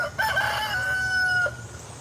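A rooster in a backyard garden gives one close, clear crow lasting over a second, rising and then holding a strained note before cutting off, over faint outdoor background noise.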